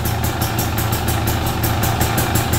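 A KTM 300 EXC two-stroke dirt bike idles steadily just after its first start, a close, even engine note with a fast regular pulse and no talk over it.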